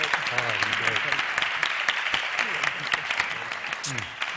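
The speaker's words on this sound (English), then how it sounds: "Let's have a warm round of applause for them." An audience at a panel event on con men, charlatans and conspirators gives the panelists a warm round of applause, dense and sustained, while a voice speaks over the clapping.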